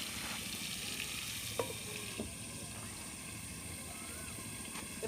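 Potatoes frying in hot oil with salt and turmeric give a steady, soft sizzle, with a few faint clicks of a utensil stirring the pan; no one speaks.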